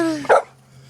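A dog gives one sharp, close bark that cuts off a voice, followed by quiet background hum.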